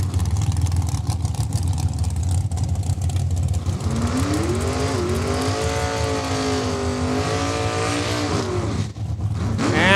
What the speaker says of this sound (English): Jamie Fiesel warming up the back tires of that 32 Altered Bantam.